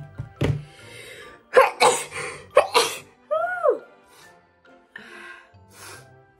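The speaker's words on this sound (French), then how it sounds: "Que cela les rassure, je vais éternuer." A person sneezes with a sharp burst, followed by a few breathy snorts and small noises in an otherwise quiet room.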